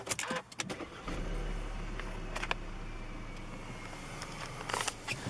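A 2013 Audi A4 2.0 TFSI quattro S line saloon with S tronic gearbox fires up from inside the cabin, with a few clicks and knocks before a steady low engine hum.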